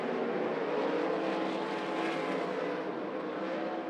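A pack of 360 sprint cars roars around the Grays Harbor race track, a loud, continuous, high-revving engine drone that swells and slightly fades as they pass.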